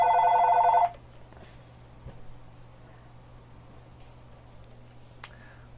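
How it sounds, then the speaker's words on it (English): A telephone rings once at the start, a short bright electronic trill that cuts off abruptly, followed by quiet room tone with faint clicks and a brief tone near the end. "sorry for the phone ring."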